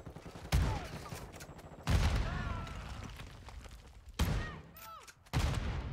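Shotgun blasts in Call of Duty: Modern Warfare II with a Bryson 890, four sharp loud shots spaced a second or more apart amid game effects and faint background sounds.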